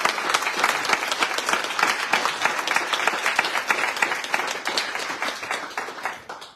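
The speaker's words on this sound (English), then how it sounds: "Let's give him a round of applause." An audience at a book talk applauds loudly and close, a dense steady clapping that tapers off toward the end.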